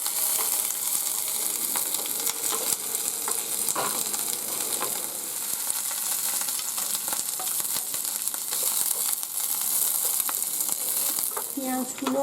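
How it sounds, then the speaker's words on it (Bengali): Onion pieces sizzle in hot oil in a pan with a constant, bright crackle, while scattered scrapes and clicks of stirring come through close by, with no voices. "এরপর এতে পেঁয়াজের টুকরোগুলো দিয়ে দিচ্ছি। এবার একটু নেড়ে চেড়ে নিলাম।"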